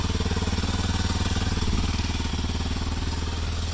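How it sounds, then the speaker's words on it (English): A Kawasaki motorcycle engine runs just after starting, a loud, close, rapid even thumping idle that holds steady throughout. "This bike started right away."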